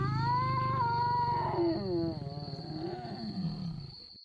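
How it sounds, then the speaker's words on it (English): A lion on the South African savannah lets out a long, strained roar, loud and close, its rumbling tone rising and falling over several seconds before fading, with no one talking. "From the strained roar of a lion"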